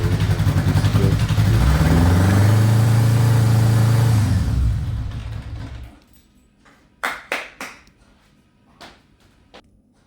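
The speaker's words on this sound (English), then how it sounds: "Now the bike is working without the bottle" A 1978 Honda Goldwing motorcycle engine runs loud and close with a rough, throbbing idle that rises briefly, then cuts out after about five seconds, leaving a few sharp metallic clanks in near silence.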